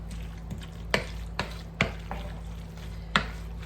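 Six eggs are mixed into macaroni salad in a bowl, heard as a few sharp utensil knocks and scrapes against the bowl over a low background hum, with no talking.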